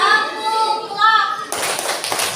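Children in a classroom chant the 'tepuk love' clapping game. Voices chant in unison first, then a quick burst of sharp, scattered hand claps follows near the end.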